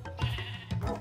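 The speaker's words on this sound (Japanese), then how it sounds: "また羊が襲われていますね。" A Minecraft sheep gives two short, wavering bleats in quick succession as it is attacked, close and clear with no talk over them.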